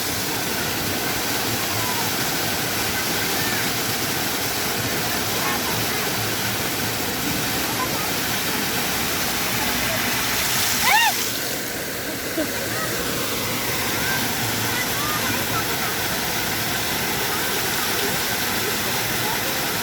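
A natural village waterfall at Desa Pancakan Saga roars in a steady, broad hiss of falling water, close and constant throughout, with a faint thump midway.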